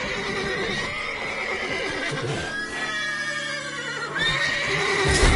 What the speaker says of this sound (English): Call the horses before they wake the guards.